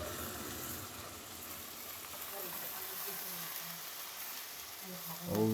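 Beef pieces for a tomato-and-yogurt beef bhuna fry in a pan after the water has cooked off, giving a steady, close sizzle throughout with a brief louder stir or clatter at the end.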